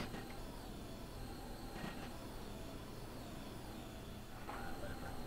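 A train rolls along the Chengdu to Suining line in Train Simulator 2018 with a steady rumble of wheels on track. A few faint, widely spaced clicks from the rails sit under the constant noise.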